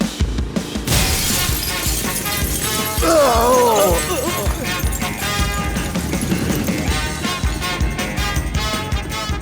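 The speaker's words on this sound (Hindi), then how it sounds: "दरवाजे से भी आ सकता था ना, वो कांच को क्यों तोड़वाया?" A glass window shatters as the hero crashes through it in a Santhanam Hindi-dubbed movie scene, a loud sustained crash of breaking glass mixed into dense, busy film sound with no talking.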